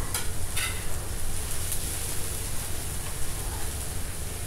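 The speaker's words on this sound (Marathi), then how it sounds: "हे सगळं आता तेलावरती परतून घ्यायचं आहे" Garlic, half an inch of ginger and green chillies sautéing in hot oil, giving a steady close sizzle and hiss with faint stirring clinks near the start, no talk.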